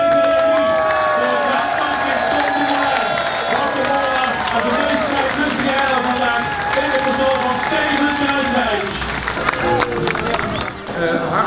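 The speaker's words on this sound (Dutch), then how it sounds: "We gaan een geweldig applaus laten horen nogmaals voor de zevende revue." A large outdoor crowd at a post-Tour de France cycling criterium applauds, cheers and whoops, a loud continuous roar of clapping and shouting with voices mixed throughout.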